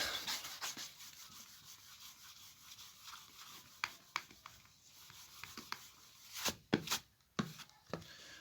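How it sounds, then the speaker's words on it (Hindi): A board eraser rubs chalk or marker writing off a classroom board during a vector calculus lesson, giving soft scratchy swipes that build into a series of sharper strokes toward the end, close by and moderately quiet with no talk. "राइट, तो मैं मिटा दूं, लेट मी रब दिस।"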